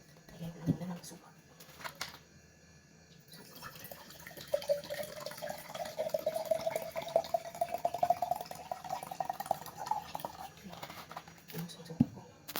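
Vinegar pours in a thin, steady trickle into a container while garlic is being prepared, a rising liquid stream lasting several seconds, fairly close and moderately quiet with faint background noise.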